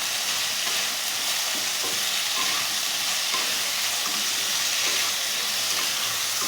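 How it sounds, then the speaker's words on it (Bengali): Potatoes with salt and sugar are stirred in a pan for bori posto, giving a steady close hiss of frying with faint scraping under it. "নুন দিচ্ছি আলুগুলোর মধ্যে, চিনি দিলাম, সাথে মিশিয়ে নেব"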